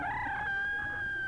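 A rooster crows in one long, sustained call, close and fairly loud, during the inspection of a breeding chicken flock in the 1950s, with no talk over it.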